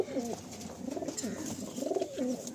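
Kalpetia pigeons coo in repeated low, throaty phrases, close by and fairly loud, with a faint hum of background noise.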